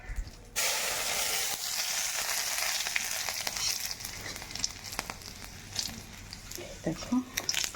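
Whole garam masala, cumin seeds, bay leaves and garlic cloves hit hot oil in a pan with a sudden loud sizzle, settling into a steady close crackling hiss, while a voice talks intermittently over it.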